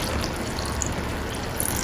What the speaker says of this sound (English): Next, I'm going to add the vinegar according to your taste.